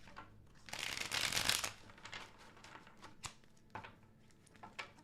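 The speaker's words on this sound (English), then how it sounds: "2 more shuffles." A deck of tarot cards is shuffled close up, starting with a dense riffling burst and moving into lighter taps and card slides, faint and quiet with no talk.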